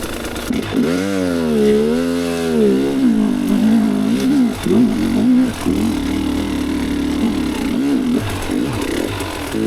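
A 2023 Gasgas EC300 TPI two-stroke dirt bike climbing in second gear, its engine close and loud, revving up and down in wavering surges with short throttle dips.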